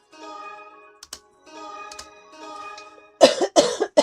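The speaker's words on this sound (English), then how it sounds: "I'm coughing way less now." A hum-like drone with short clicks, then three harsh, loud coughs in quick succession close by.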